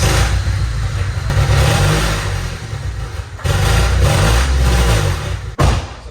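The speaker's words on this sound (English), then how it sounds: "I'll do an exhaust clip real quick." A 1997 Honda Civic EX coupe revs loudly and steadily up close, with throaty exhaust rumble and brief drops between pulls.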